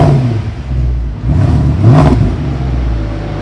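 A Mercedes AMG naturally aspirated V8 idles with a low, steady rumble, rising through two brief revs before settling back into a close, continuous burble, with no talking.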